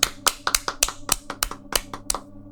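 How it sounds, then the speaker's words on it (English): A small group gives a short round of applause, about a dozen sharp, close claps in a loose rhythm that fade out after a couple of seconds. "I think that deserves a round of applause"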